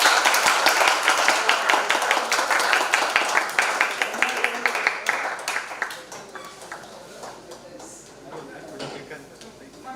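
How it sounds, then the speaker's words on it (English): Audience applause at an MBA institute event honouring a woman senior manager in digital lending analytics, dense clapping for about six seconds and then thinning into scattered claps, with voices murmuring underneath. "I think we can give one more round of applause for the woman power."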